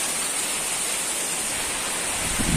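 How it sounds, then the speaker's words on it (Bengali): Heavy rain driven by wind pours down as a dense, unbroken roar of falling water, loud and close from start to finish. "এ দেখুন প্রচুর বৃষ্টি হচ্ছে"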